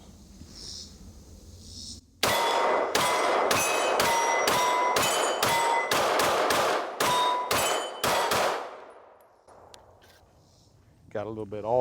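Glock 45 pistol fired rapidly at steel targets, about a dozen sharp shots in quick succession, each followed by a bright metallic ring, with quiet talk before and after the string.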